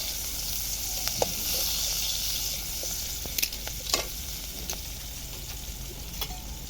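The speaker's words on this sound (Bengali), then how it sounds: "এখন রান্না হবে শুটকি, পেঁয়াজের পাতা দিয়ে লইট্টা শুটকি।" Dried Bombay duck fish cooking with onion leaves in a pot, giving a steady soft sizzle with a few sharp clicks and scrapes from stirring. The sound is close and continuous, with no talking.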